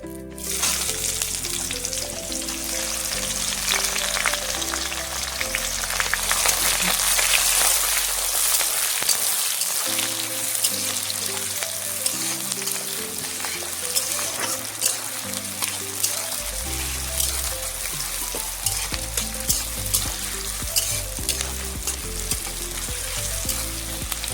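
Chopped onion hits hot oil in a pan for a Bengali duck curry, giving a loud, steady sizzle and crackle that runs throughout with occasional stirring scrapes and no talking.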